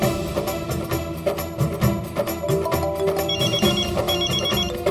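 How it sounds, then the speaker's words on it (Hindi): A phone rings repeatedly in a household sitcom setting, its tonal ringtone pattern looping steadily over background music and room ambience, with no voices in between. "मैं रिंग बजने दूंगी।"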